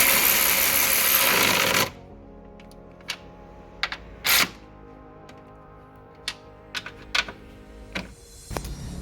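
Nuts being tightened onto the front shock top mount of a 2007 Honda Civic: a short burst of steady loud rattling noise, then a quiet stretch broken by scattered sharp metallic clicks and taps, with no talking.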